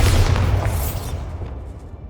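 A Bombarda spell explosion in Hogwarts Legacy bursts with a loud, deep boom that rumbles and slowly decays, one blast alone.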